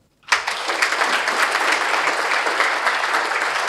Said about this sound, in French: c'est sous ces applaudissements bien nourris que nous voudrions vous remercier pour votre présence